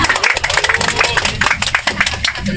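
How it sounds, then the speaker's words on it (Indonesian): Clapping from a small group at a guiding talk about Bogor and Karawang, quick mixed hand claps at close range with a busy murmur of voices and room noise underneath. "tepuk tangan dong"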